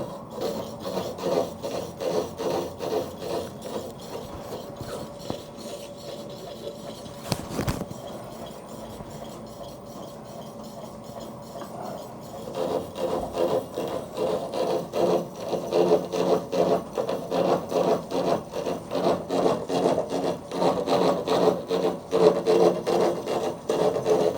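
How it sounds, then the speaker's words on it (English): An old blunt slitting saw turning slowly on a lathe, cutting metal with a steady grinding rasp and rhythmic scraping pulses that grow louder in the second half, heard close with no talking. "These slitting saws run really slow."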